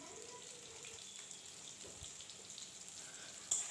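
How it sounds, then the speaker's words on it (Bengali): Salted potatoes fry in oil with a steady, faint, hissing sizzle and scattered small pops, ending in a brief louder crackle. "নুনটা দিয়ে নাড়াচাড়া করে আমি একটু ভালো করে মিশিয়ে দিয়ে আলুটাকে লালচে করে ভাজা করে নেব কিছুটা সময় ধরে।"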